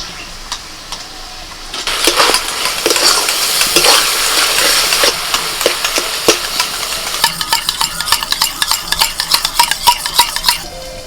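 Chopped tomatoes tipped into frying masala in a pan, then stirred briskly with rapid scraping strokes over a steady loud sizzle, close up.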